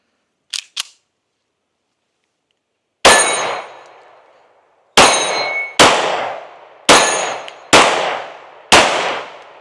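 Kimber R7 Mako Carbon Compact pistol firing six sharp, loud shots, one alone and then five in fairly quick succession, each ringing out and decaying.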